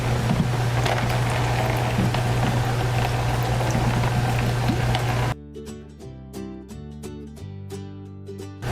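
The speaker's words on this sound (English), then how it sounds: "I'm going to dump the water that's in the filter I just removed into this bucket" Water from a just-removed boiler filter is dumped into a bucket, a steady splashing pour for about five seconds that stops abruptly, leaving quieter, sparse tonal sounds.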